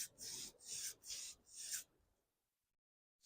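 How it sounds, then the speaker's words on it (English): Sandpaper of 220 grit rubbing on wrought iron from an old wagon wheel gives four quick, close rasping strokes, then silence. "I have 220 grit sandpaper on there."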